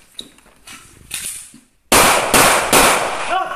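Pistol shots ring out during a shooting training drill: after quieter shuffling, four sharp, loud reports crack in quick succession, each trailing off briefly, with no speech heard.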